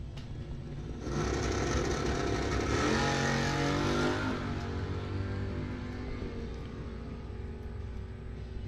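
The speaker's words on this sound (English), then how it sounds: "Two-time pro track champion here at Coles County in the wheel standing Camaro. The Hitman will head down the JT Muffler lane" A wheel-standing Camaro drag car launches down the lane during bracket racing at Coles County Dragway. A loud engine roar surges in after a second, climbing through rising revs and then holding a steady, heavy drone. No one speaks.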